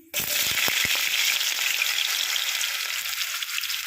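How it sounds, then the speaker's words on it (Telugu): Potatoes for a palak aloo curry drop into hot oil and burst into a loud, steady sizzle, with a few light clatters at the start. "ఫస్ట్ అయితే ఆలు వేసుకుందాం"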